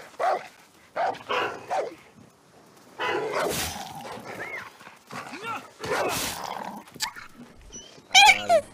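Game dog barking in short bursts, a blue chrome-looking pet dog, with several sharp barks at the start and again near the end, mixed with excited overlapping voices talking throughout.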